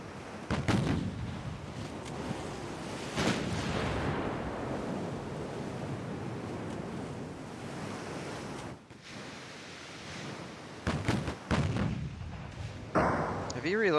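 Naval gunfire in a warship battle game, with 2-inch and 3-inch guns firing as repeated booming shots over steady sea and wind noise, some reports close and loud, others distant.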